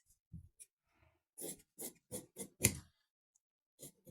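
Scissors snip through fabric while a garment piece is cut to shape, several crisp close cuts coming in short irregular bursts separated by quiet pauses.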